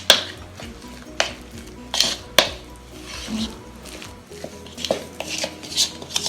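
Flour and sunflower oil being mixed in a bowl, with sharp clinks of a utensil against the bowl and softer scraping and stirring between them, close and alone with no voices.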